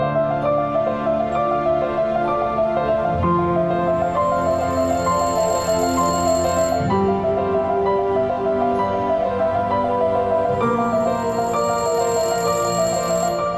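A telephone rings continuously for over ten seconds, a loud, bright bell-like trill repeating steadily with no speech.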